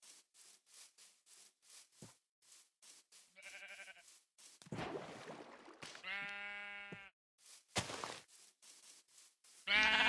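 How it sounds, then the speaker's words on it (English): Video game sheep bleat in scattered short calls, one clear drawn-out bleat standing out amid soft tapping and rubbing sounds, with a brief whooshing noise between. "Those are sheep? They look like pigs. No, those are pigs. The sheep are over there."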